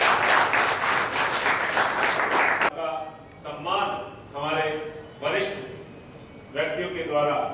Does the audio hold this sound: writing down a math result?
no